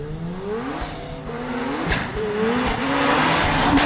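A 600HP Mazda FD RX7 rotary sports car revs hard and loud, its pitch sweeping up and down in repeated surges as the throttle is blipped, close and alone without talk.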